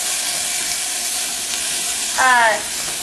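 Onions sautéing in canola oil in a pan, a soft steady sizzle with a brief louder burst of stirring or hiss near the end, close by, no talk.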